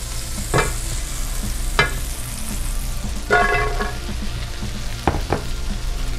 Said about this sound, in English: And then we're gonna toss in our breadcrumbs.